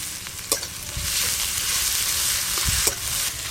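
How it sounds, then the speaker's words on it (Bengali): Chopped onion with crushed ginger and garlic fry in oil for potato chop filling: a steady, close sizzle broken by a few sharp stirring knocks. "পেঁয়াজ আদা রসুন একটু ভালো করে ভেজে নেব।"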